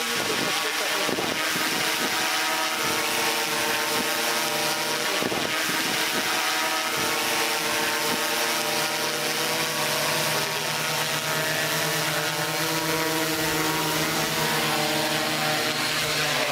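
A survey drone's propellers give a sustained high-pitched buzzing whine, close and steady for the full length, while people talk over it intermittently.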